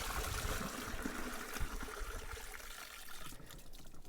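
Water sloshing and splashing inside a shaken toilet cassette, close and irregular, with surges of liquid noise rising and falling over a few seconds and no voices.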